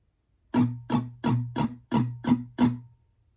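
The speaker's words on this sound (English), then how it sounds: "without the emphasized strums, pattern 1 would sound like this" Seven evenly spaced acoustic guitar strums of similar strength, each ringing briefly before the next, playing a strumming pattern for a song (live version) with no added accents, close and clear with no voice.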